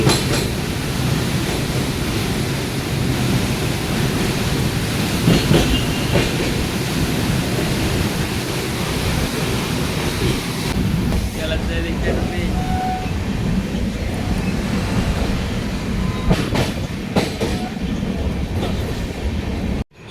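Humsafar Express passenger train rumbling across the Farakka Barrage, a steady loud roar of wheels and carriages that continues throughout, with faint clicks of rail joints toward the end.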